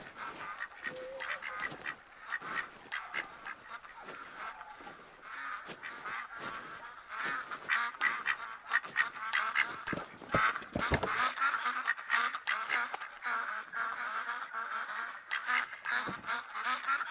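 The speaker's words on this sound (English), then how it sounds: "Ducks are here. There's always ducks here." Ducks at Layton Lake in the hunting game theHunter: Call of the Wild quack and honk repeatedly, a lively chorus of overlapping calls that swells louder midway over faint ambient wind.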